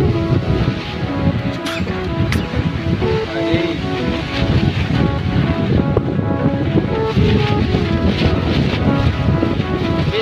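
Ocean waves wash in steadily at the beach in Puri, with strong wind buffeting the microphone, forming a loud, continuous roar of surf and gusts with no talking.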